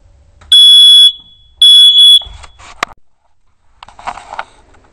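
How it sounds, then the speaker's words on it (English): A hardwired smoke detector gives two loud, piercing electronic beeps, followed by brief clattering and rustling handling noises. "Putting up new smoke detectors."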